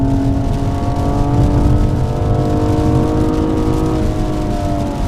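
A BMW M235i xDrive is driven on a wet racetrack, its engine droning steadily and loudly with a smooth whirring tone that rises and falls slightly, heard close with no talking.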